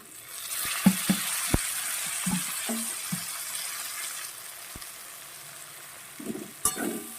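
Eggplant fries in a pan with potatoes and spices: a steady, soft sizzle runs throughout, broken by sharp clicks and scrapes as the spatula stirs, with a louder scrape near the end.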